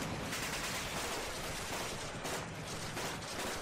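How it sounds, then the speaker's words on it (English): Gunfire sound effect in a Rogue Trader tabletop role-playing session, a dense continuous rattle of distant shots and bursts filling the whole stretch at steady loudness with no talking. "You hear the gunfire is much louder now."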